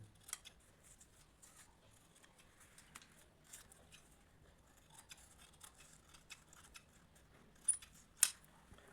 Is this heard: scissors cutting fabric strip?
yes